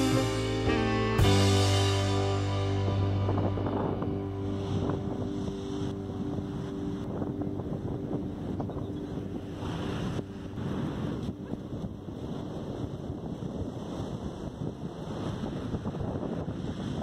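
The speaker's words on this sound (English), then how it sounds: "the sight and the sound of these waves" Broad rushing noise of ocean waves and wind at Baker Beach, San Francisco, continues throughout, with surges of surf rising and falling, plus a low rumbling drone early on.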